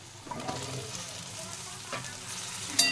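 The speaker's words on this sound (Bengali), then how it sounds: "আলুটাও ভালো করে ভেজে নেব।" Chopped potatoes fry with onion, ginger and garlic in a pan, a close, even sizzle with soft stirring scrapes and a slightly louder burst near the end.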